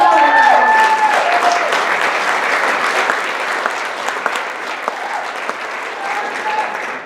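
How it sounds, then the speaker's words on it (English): Audience applause greets a comedian taking the stage at a comedy class competition and showcase, a loud, full burst of clapping that gradually thins out toward the end, with a few whoops and cheers near the start. "Let's give a great big round of applause for Alexis Ontario."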